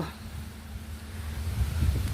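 Strong gusts of wind in treetops ahead of an approaching rainstorm, heard as a low, rumbling roar that swells louder toward the end.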